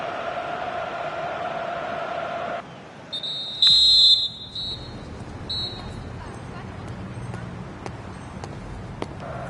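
A referee's whistle ends the first half of a football match with one sharp, loud, steady blast lasting about a second, then a shorter, fainter blast, over a constant stadium crowd murmur.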